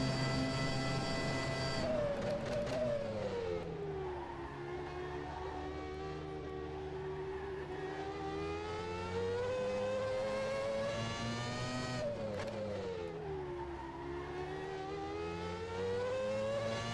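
A high-revving McLaren F1 race car engine in rFactor 2 screams continuously, pitch falling and climbing through gear changes, loud and unbroken with a synthetic, game-like tone.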